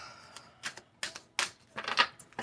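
Quiet, close bursts of crisp riffling as tarot cards are shuffled, several short flurries in uneven succession, with no one talking.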